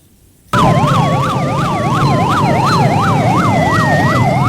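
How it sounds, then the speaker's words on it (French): A loud emergency siren wails in a fast, regular up-and-down sweep, starting abruptly after a moment of near silence and holding steady and close to the end, with faint traffic noise underneath. "Une sirène retentissante, suscitant un nouvel espoir chez tout un peuple"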